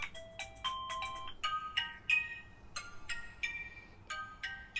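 A Redmi K20 Pro's bottom-firing speaker plays a bright, thin melody of quick electronic notes in short bursts, like a ringtone, at moderate level with a faint background hiss.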